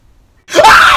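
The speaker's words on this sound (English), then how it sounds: "I have the best girl scream" A sudden loud, close scream from a person startled while playing the Granny horror video game, bursting in after near silence and holding strong to the end.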